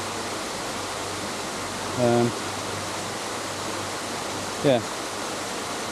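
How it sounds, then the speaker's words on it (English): Water tumbles steadily through an old brick channel, a constant close rushing wash that fills the whole clip, with a brief spoken word and one other short voice cutting in over it. "do some slow motion of that water tumbling"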